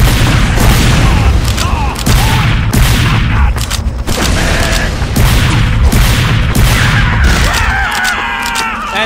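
Dense, loud gunfire and explosions fill a Team Fortress 2 match, with rapid shots and booms crowding one another almost without a break, while voices shout over the battle.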